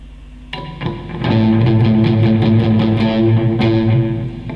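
Distorted electric guitar strums a rhythmic chord pattern, loud and close, with repeated down-and-up strokes and no voices.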